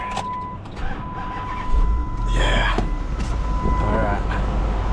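A 2008 Chrysler Aspen with the 5.7L HEMI V8 cranks and catches partway through, then settles into a steady low idle rumble up close, with talk over the start.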